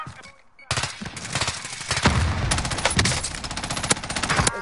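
Loud rapid automatic gunfire in an online shooter game, sharp bursts rattling almost continuously after a brief quiet opening.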